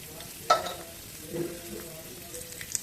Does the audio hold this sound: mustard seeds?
yes